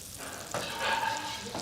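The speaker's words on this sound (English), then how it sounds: "I'm gonna add a little bit of whole butter to this. And if you can see that sizzle, it starts to bubble." Whole butter sizzling and bubbling in a hot pan beside a sandwich seared on one side: a steady, close frying hiss that swells briefly as the butter hits the pan.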